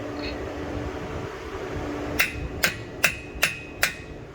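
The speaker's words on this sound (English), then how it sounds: "we're going to hit this with a hammer" Five sharp hammer strikes ring out in steady rhythm on a 2011 Toyota Sienna Limited AWD's lower ball joint, driving it out of the wheel hub, with a low mechanical hum running underneath.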